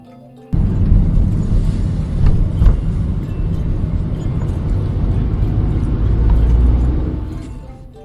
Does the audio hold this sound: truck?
yes